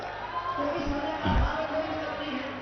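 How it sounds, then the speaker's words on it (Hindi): A crowd applauds at an outdoor political rally in Gautam Buddh Nagar, a steady wash of clapping and crowd noise that swells briefly midway through and holds loud for nearly three seconds. "एक बार महाशय जी के लिए जोरदार तालियां बजा दें सब लोग।"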